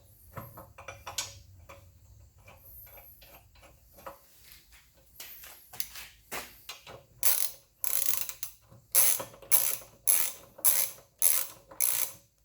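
A ratchet wrench with a 14 mm socket tightens the hex-head bolt on a Mega Moto 212 minibike kickstand. It starts with faint handling sounds, then gives about a dozen loud, close, rhythmic bursts of clicking.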